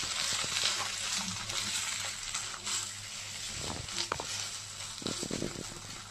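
A banana flower mixture for mochar chop fries in a pan, loud continuous sizzling broken by several sharp scrapes and knocks of a spoon stirring toward the end.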